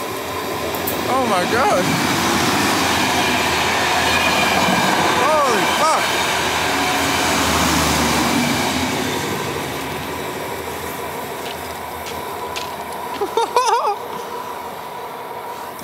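A train rolls past on the tracks at a Greek train graveyard, a loud, continuous rumble with screeching wheel squeals, while a person exclaims over it close by.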